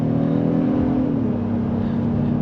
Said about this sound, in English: I think VTEC just kicked in.